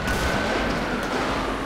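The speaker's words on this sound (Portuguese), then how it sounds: "Foi eles que atiraram em nós, pô, primeiro." Gunfire in GTA 5 roleplay, a continuous crackling volley of rapid shots with a steady noisy roar throughout the short burst.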